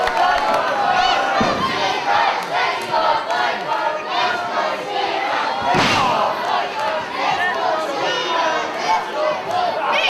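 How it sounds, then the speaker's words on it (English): Roaring, rowdy crowd at an Irish Whip Wrestling show, shouting and chanting in waves with a couple of heavy thuds from the ring, voices overlapping throughout at full volume. "This crowd getting into this action"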